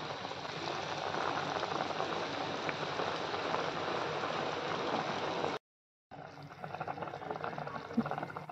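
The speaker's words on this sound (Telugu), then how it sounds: "ఇప్పుడు ఎసరొచ్చింది, బియ్యం వేసుకోవాలి" Water for cooking rice boils in a pot, giving a steady bubbling hiss like light rain. It is fairly quiet and close, and it cuts out briefly near the end before resuming.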